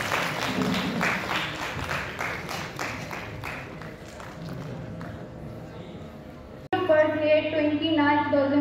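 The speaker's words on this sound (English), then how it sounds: "आप लोग सभी तालियां बजाते रहिए।" Audience applause at a college freshers' event starts loud and dense, then thins and fades over several seconds before music suddenly cuts in.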